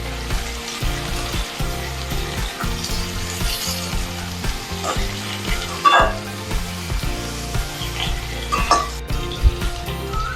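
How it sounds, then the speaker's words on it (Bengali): Eggplant and mixed vegetables fry steadily in hot oil, a continuous close sizzle with occasional scrapes and knocks of a spatula against the pan, and no talking. "এবার সব সবজিগুলোকেই একটু সময় ধরে তেলের মধ্যে ভাজা করে নেবে"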